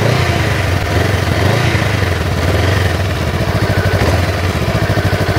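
A Honda Rebel 500 motorcycle with stock exhaust idles close by, a loud, steady, evenly pulsing low thrum running from start to end.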